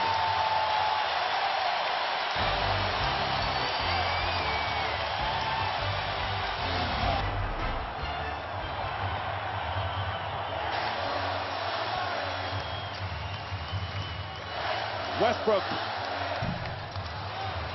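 A basketball arena crowd at an NBA playoff game between the Nuggets and Thunder roars steadily in a broad, sustained wash of noise, with a sharp burst near the end.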